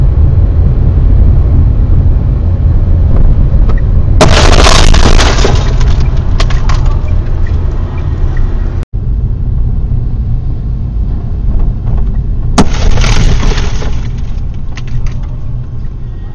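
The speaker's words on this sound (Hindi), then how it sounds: "चलती गाड़ी में विंडो का ग्लास टूट गया" Steady road rumble inside a moving Tata Nexon facelift SUV, broken by a sudden sharp crack and bursts of crunching, shattering side-window glass, with a second burst later.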